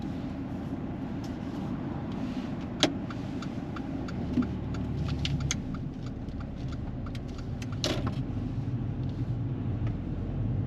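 A car pulls away from the kerb on a mock driving test, its engine a steady close drone with road rumble throughout and a couple of brief sharp clicks.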